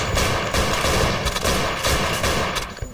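Loud, continuous rapid gunfire in the side-scrolling shooter game Thing Thing 4, a dense barrage with machine-gun-like bursts that barely lets up.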